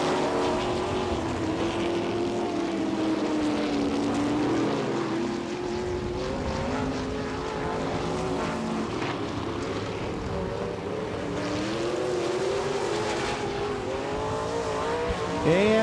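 410 sprint cars racing on a dirt oval at Attica, Ohio, engines roaring and whining with rising and falling pitch as they pass, a dense continuous pack sound with a faint announcer-like voice underneath.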